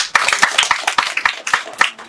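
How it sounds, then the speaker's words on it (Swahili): Audience clapping at a gathering: loud, close hand claps in an uneven rhythm, each clap sharp and distinct, continuing for about two seconds. "Makofi kwake."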